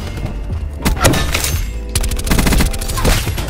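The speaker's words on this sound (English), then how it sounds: "Why are you shooting me, dude?" Gunfire rattles in Call of Duty Black Ops 4 as rapid bursts of automatic shots and heavy impacts crack close and loud, overlapping in quick succession.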